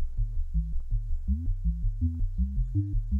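A square-wave synthesizer sequence in VCV Rack, shaped by an ADSR envelope: short, buzzy notes pulsing in a quick, even rhythm, stepping up and down through a repeating low melody.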